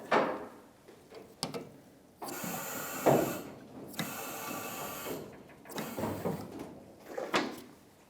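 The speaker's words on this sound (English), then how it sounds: "I'm going to line up my jack stand right now." Jack stand being positioned under a 1992-1996 Ford F-150 during leaf spring shackle repair: close metallic scraping and ratcheting clicks in several bursts, with short clunks between them and no talking.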